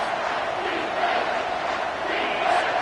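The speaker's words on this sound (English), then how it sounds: "this crowd is bringing down the house" A packed college football stadium crowd roars loudly and steadily on a third-down play, a dense wall of cheering and shouting with no break.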